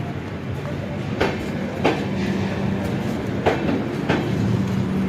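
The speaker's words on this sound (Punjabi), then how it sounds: "ਟ੍ਰੇਨ ਚੱਲ ਪਈ" A train rolling off, with rhythmic clacks and rumbling wheels over a low steady hum, close by.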